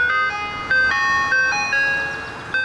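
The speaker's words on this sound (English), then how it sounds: "drivers of ice cream trucks like this one" An ice cream truck plays its jingle, a bright, repeating tinkling melody of clear electronic tones, steady and fairly loud with no talk.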